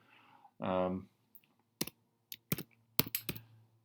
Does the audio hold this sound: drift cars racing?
no